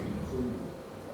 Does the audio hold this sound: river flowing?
no